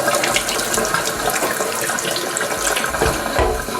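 Tap water runs steadily over a coconut being washed before it is cracked and shredded, a continuous close splashing stream with no pauses.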